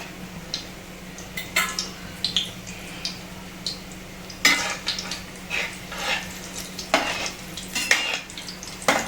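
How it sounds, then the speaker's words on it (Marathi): Sweet potato gulab jamun fry gently in ghee on a low flame, giving a steady soft sizzle with occasional clicks and scrapes of a utensil stirring in the pan, close and with no talk. "व्यवस्थित असे बारीक गॅसवर तळायचे."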